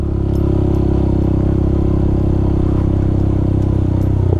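Honda Grom motorcycle ridden along a countryside green lane, its small engine thrumming steadily and loudly at a constant pace with light rattles, heard up close throughout.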